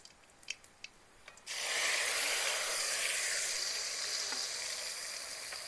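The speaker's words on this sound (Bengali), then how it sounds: "এইবার দিয়ে দেব টমেটো কুচি।" A few light ticks of nigella seeds in hot oil, then chopped tomato hits the pan and sets off a sudden loud, dense sizzle that holds steady and slowly eases off.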